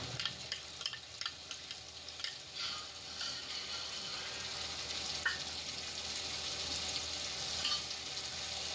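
Onion paste frying in a hot pan for a Gujarati bottle gourd and chickpea curry, a steady close crackling sizzle with occasional stirring clicks and scrapes, no voices.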